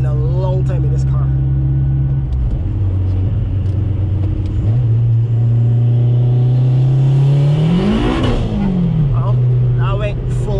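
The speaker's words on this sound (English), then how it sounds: "Well, that went full wheel spin, fourth gear." A turbo Honda Civic Si pulling in fourth gear with full wheel spin in winter conditions, engine droning loud and rising steadily, a sharp rev surge and fall near the end, with someone talking over it.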